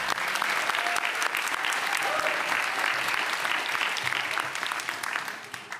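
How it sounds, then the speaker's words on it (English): A large audience applauds continuously, dense clapping holding steady and loud before tapering slightly at the end. "I hear the applause"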